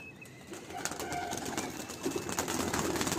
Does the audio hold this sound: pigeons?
yes